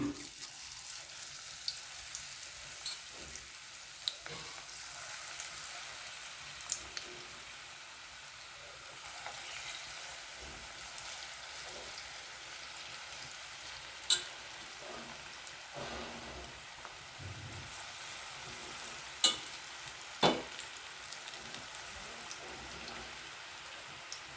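Ragi pakoda batter deep-frying in hot oil, a steady dense crackling sizzle throughout with a few sharper pops, no voices.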